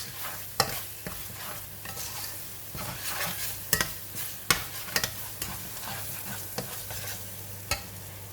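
Curry paste sizzling and frying in a pan for chicken rendang while a utensil stirs it, with steady frying hiss and sharp scraping clicks throughout, close and alone.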